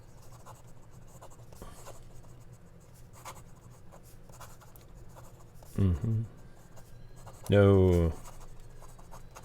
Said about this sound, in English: So let's write some gibberish really fast.